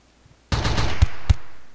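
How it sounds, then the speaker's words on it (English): Auto turret gunfire in RimWorld bursts out as a loud, rapid volley, followed by two sharper, heavier shots before fading, with no talk over it. "You are getting hit by the auto turret."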